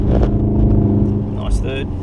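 A Golf R is floored on a track day at Wakefield, its engine droning steadily under full throttle with a low, even tone, while a driving instructor talks over the engine noise.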